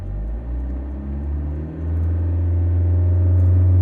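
A car engine is revved and held at about 2,500 RPM, a steady low drone that climbs slightly and settles into a loud, sustained rumble without speech.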